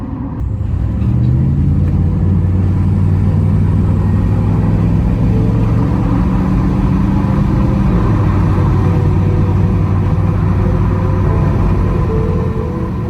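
An OBS Chevy truck engine with a Flowmaster FX exhaust runs loud and close, a continuous deep rumble with a steady droning tone that shifts pitch slightly as revs change, with no speech over it.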